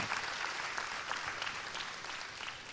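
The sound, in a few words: audience applause for Mr. Obaro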